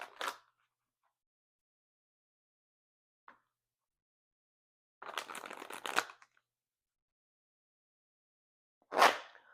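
Tarot cards being shuffled and pulled, a few brief riffling and snapping bursts separated by silence, close and crisp, including one short shuffle lasting about a second.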